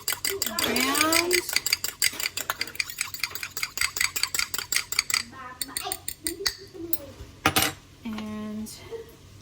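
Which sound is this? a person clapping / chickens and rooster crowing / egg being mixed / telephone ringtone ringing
egg being mixed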